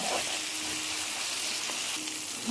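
Fish pieces frying in a pan of tomato masala give a steady, close sizzle that runs without a break from start to finish, with no voices.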